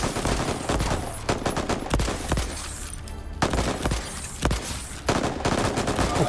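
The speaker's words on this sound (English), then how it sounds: "Stop shooting me!" Enemies shooting in the game Voidtrain, dense bursts of automatic gunfire and repeated sharp shots crackling loudly and continuously, with no talk over them.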